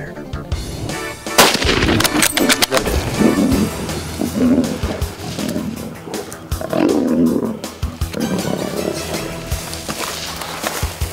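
A hunting rifle shot at game in South Africa, a sharp loud crack with ringing tail amid a broadband roar-like wash, no talk.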